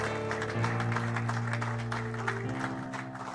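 A church congregation applauds together, steady clapping running the whole way under sustained held musical tones, fairly loud and without a break.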